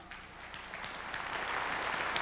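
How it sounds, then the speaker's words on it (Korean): Audience applause at a peace forum lecture on national unity and the Korean peninsula: a steady, dense patter of many hands clapping that swells slightly and holds at moderate loudness throughout, with no talk over it. "박수를 쳐주셔가지고 네, 힘이 납니다"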